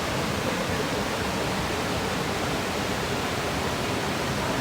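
Khlong Phlu waterfall on Koh Chang, Thailand, a jungle swimming spot with clear water, roars as a loud, steady rush of falling water that fills the whole scene without a break.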